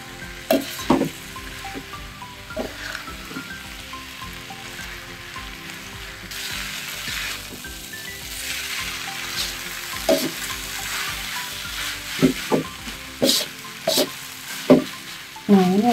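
Rice vermicelli noodles stir-fried in a pan for a vegetarian dish, a continuous sizzle broken by repeated scraping and stirring strokes and occasional utensil clinks against the pan, close up with no talking.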